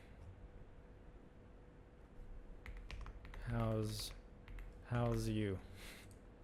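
Computer keyboard typing with soft, rapid key clicks at low level, followed by a synthesized-sounding voice speaking twice in the latter half.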